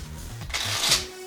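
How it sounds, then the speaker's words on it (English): Playing cards riffle-shuffled on a table, a quick rising burst of crisp fluttering clicks lasting about a second, close and fairly loud, followed by a short soft settling of the deck. "The first one is just going to be the regular Riffle shuffle on a table"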